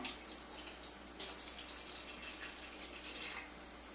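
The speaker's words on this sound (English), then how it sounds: "You put 2 cups of water into your kettle." Water running steadily with a faint splashing hiss, a continuous pour into a tea kettle with slight surges, quiet and close.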